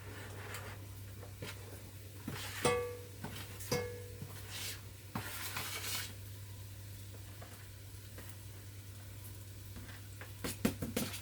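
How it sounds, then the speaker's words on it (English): Onions and garlic sizzle in a Dutch oven while collard greens are being cooked. A steady, soft frying hiss runs throughout, broken by a few sharp clinks and scrapes of stirring, with no voices. "I'm going to put our onions and garlic. It's got a little sizzle inside the Dutch oven pan."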